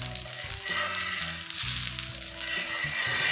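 Balloon vine (mudakathan) dosa frying in a pan over a medium flame gives a steady, close sizzle with soft crackles throughout.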